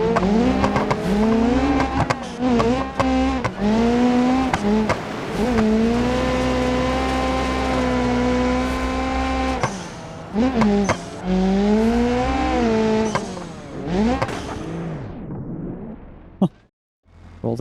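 Race car in the driving game BeamNG, engine revving up and down through gear changes with tires squealing and skidding, loud and continuous before cutting out near the end.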